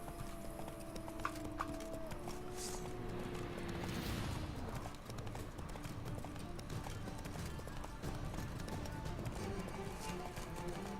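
A horse galloping in The Witcher 3, a fast rhythmic clip-clop of hooves running steadily close by, with a faint voice briefly audible beneath it.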